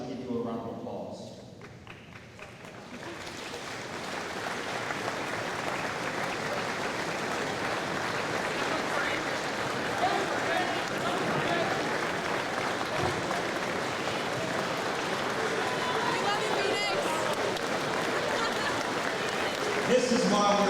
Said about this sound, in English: we would like to give you a round of applause